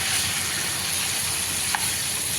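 Potatoes and carrots frying in hot oil for a village-style dum biryani, a steady close sizzle running throughout with one brief sharper crackle near the end.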